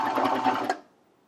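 A Baby Lock Vibrant serger runs at speed stitching jersey t-shirt knit fabric, a close, busy mechanical whir with rapid ticking that stops abruptly just under a second in.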